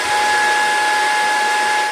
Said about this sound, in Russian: Уровень шума у пылесоса стабильный